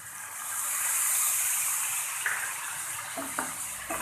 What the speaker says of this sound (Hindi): टेबलस्पून पानी डालेंगे।